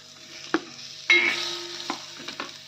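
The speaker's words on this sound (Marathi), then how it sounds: "तव्यावर आपण आधी कांदा भाजून घेणार आहोत" Onion roasting on a tawa griddle for Maharashtrian katachi amti, a soft steady sizzle with a few sharp scraping and stirring knocks, close and alone.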